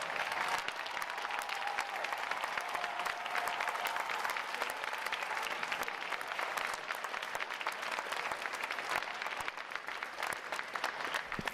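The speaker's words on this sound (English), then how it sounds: "Would all our veterans please stand up so we can give you a round of applause." An audience at a U.S. Navy boot camp graduation applauds veterans, a sustained, dense clapping from a large crowd that continues evenly and fairly distant throughout.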